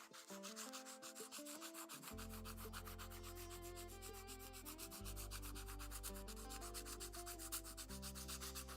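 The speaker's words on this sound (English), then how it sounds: "I love these little foam sanding blocks." Quick, rhythmic rubbing strokes of a foam sanding block on a carved wooden cupcake, steady and close, with music playing softly underneath.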